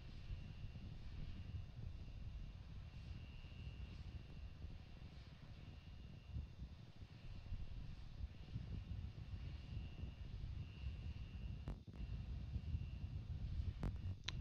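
A steady, continuous engine roar from rocket engines firing before a landing in the video game Kerbal Space Program, broad and rumbling at a consistent level throughout, with a couple of brief clicks near the end.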